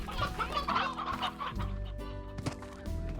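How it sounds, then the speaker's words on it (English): Chickens in the Slime Rancher video game cluck in quick, overlapping bursts, close and fairly loud over a steady background tone. "I'm gonna put a rooster in here so I have more chickens."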